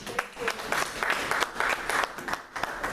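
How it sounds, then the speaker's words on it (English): An audience claps for a panel at a chew-and-chat Q&A event, a dense, steady burst of applause that carries on for the whole few seconds. "Can you give them a round of applause,"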